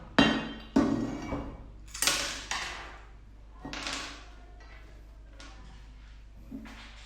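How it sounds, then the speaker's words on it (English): Screws are loosened on a black aluminum pull-start recoil starter assembly for a 2-stroke 47cc/49cc engine, with a string of sharp metallic clicks and clinks, some spaced and some close together, heard near and clear. "Now we show you how to unscrew 3 screws to separate the pole starter into 2 parts."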